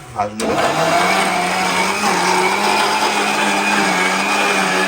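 Onion and coconut masala is ground in an electric mixer grinder that starts with a short burst and then whines loud and steady close by; a voice is briefly heard near the start.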